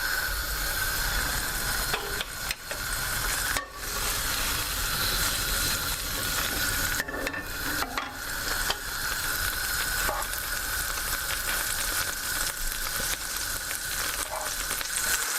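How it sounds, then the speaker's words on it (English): Leftover saltimbocca alla Romana pan sauce sizzling as it is reheated in the pan: a steady, close, continuous frying hiss with slight fluctuations and no talking. "with the sauce that remains in your pan, we heat it again"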